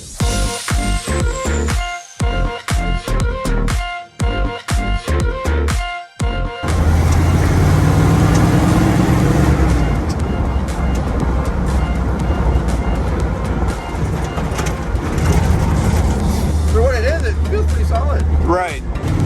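A 1976 Jeep Wrangler CJ7 starts a test drive. It opens with a run of sharp clicks and clunks, then a steady, loud engine drone and road rumble from inside the cab, with people talking over it.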